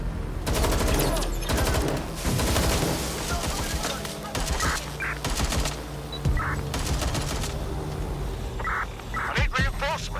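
Gunfire in Watch Dogs Legion, repeated rapid bursts and single shots spread across about ten seconds, loud and close, with voices talking in between.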